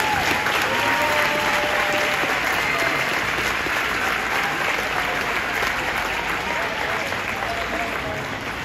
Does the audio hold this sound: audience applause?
yes